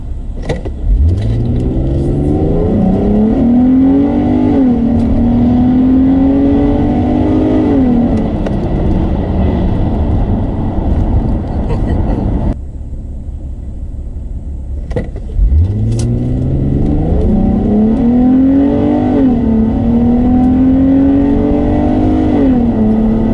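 A 220,000-mile Infiniti G35 Coupe with its VQ V6 engine pulls hard through two full-throttle acceleration runs, the loud rising engine note climbing through the gears, a brief quieter pause between the runs.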